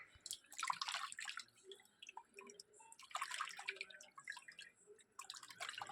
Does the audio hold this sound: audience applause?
no